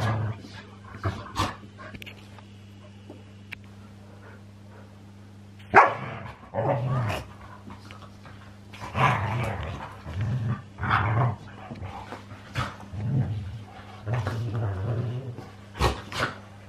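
Puppies bark, yip and growl in short bursts during indoor play, close by, with quiet gaps between, some whimpering, and a low steady hum in the background.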